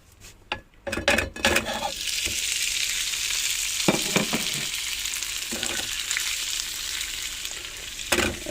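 A potato galette fries in a pan on a camping-car stove, giving a continuous bright sizzle. Several sharp utensil clinks and scrapes punctuate the start, and a few more fall through the middle and at the end.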